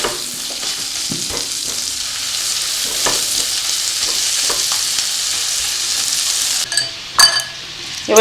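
Spices with ginger-garlic paste, salt and turmeric are stir-fried in hot oil for Bengali potoler dorma, giving a loud, continuous sizzle with occasional stirring scrapes and a brief utensil clink near the end.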